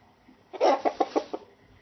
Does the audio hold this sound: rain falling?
no